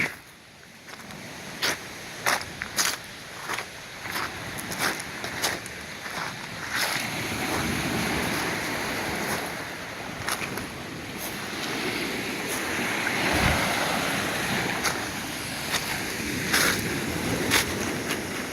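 Waves lap against the Lake Superior shoreline in Minnesota, a steady wash of water with wind noise and repeated sharp clicks and knocks from handling gear nearby, moderately close, with no talk.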